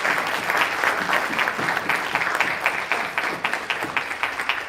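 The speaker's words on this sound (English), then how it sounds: "please join me by giving our panelists, a very loud, a big round of applause" A conference audience gives panelists a loud round of applause, with vigorous clapping sustained throughout at close range.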